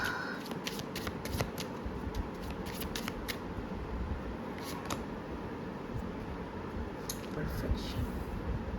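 Tarot cards shuffled during a Hindi tarot reading, giving a steady run of soft riffling and slapping bursts over a low room hum, fairly close and moderately quiet.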